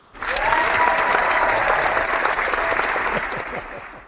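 A canned applause sound effect plays on a live stream, a dense burst of crowd clapping that swells in quickly, holds steady for about four seconds, then fades out near the end.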